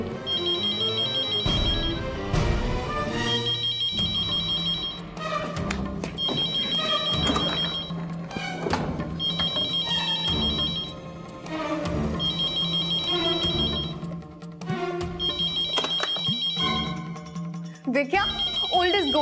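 A telephone rings repeatedly in bursts with short gaps between them, loud and close, while voices and a music bed play in between.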